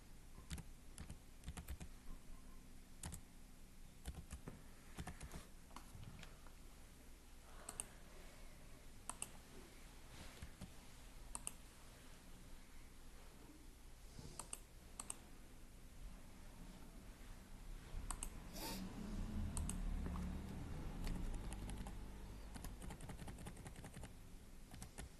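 Computer keyboard typing while text is entered into a Microsoft Word document, a steady run of close, quiet key clicks with irregular rhythm over faint background hiss and a louder rustling patch near the end.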